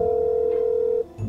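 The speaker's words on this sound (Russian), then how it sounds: "Линда взяла телефон и позвонила Тае." Telephone dial tone in the video game Teen Magic Love Story, a steady loud electronic hum held alone for about a second before cutting off abruptly.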